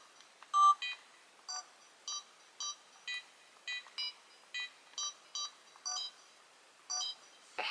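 Old digital cameras chirp out a string of about fourteen short electronic beeps, evenly spaced at a steady rhythm, clear and close with no talking.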